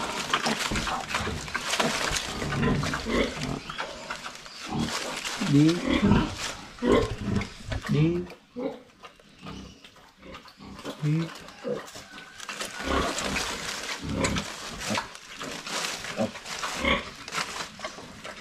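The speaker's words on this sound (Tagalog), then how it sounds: "Nakakaaliw po tingnan yung ating mga biik." Young piglets on a pig farm squeal and grunt in loud, overlapping bursts, with a brief lull midway, while a person talks over the animals.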